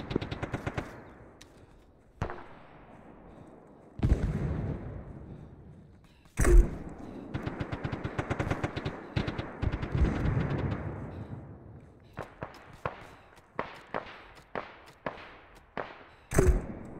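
Gunfire in the combat video game Arma 3: sharp single shots and short automatic bursts crack out at irregular intervals, some loud and close, others trailing off into long rumbling echoes, with no talking.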